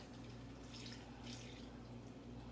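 Water running from a tap into a container, a quiet, steady splashing stream with a low hum underneath, continuous and even throughout.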